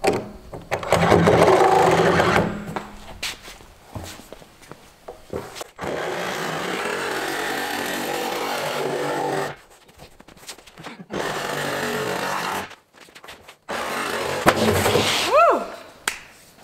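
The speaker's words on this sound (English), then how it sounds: "This is just a short sawzall tip." A Sawzall reciprocating saw cuts in several bursts with a buzzing, rattling blade stroke, starting and stopping with brief pauses between runs, close and loud during ranch work on a bison and cattle mineral feeder.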